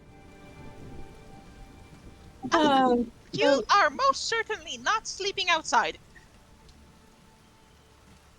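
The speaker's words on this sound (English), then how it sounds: "the rain has become much heavier, and a storm is brewing" Heavy, steady rain falls outside as a storm builds, a soft constant hiss under a person speaking.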